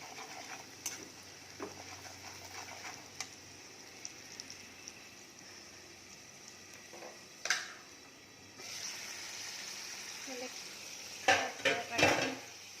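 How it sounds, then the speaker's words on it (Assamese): Quiet sizzling in a pan as food fries with red chilli powder, with occasional clinks and scrapes of a spoon stirring, ending in a few louder metallic knocks. "এতিয়া মই এইখিনি ভালকৈ ভাজি ল'ম।"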